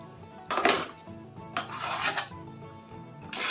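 Mango tamarind rice being mixed in a pot, with a few scraping, clattering strokes of a utensil against the pot in uneven bursts, moderately close, with no talking.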